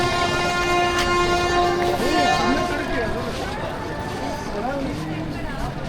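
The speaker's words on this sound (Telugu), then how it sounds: "Seshadri Express." The Seshadri Express stands at a railway station, its steady mechanical drone and rumble filling the scene with a sustained horn-like tone, while voices of people talk over it.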